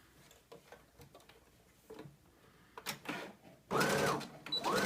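A sewing machine stitches the pinned shoulder seams of a jumpsuit with short rhythmic bursts of whirring and ticking, building into a louder, sustained run near the end.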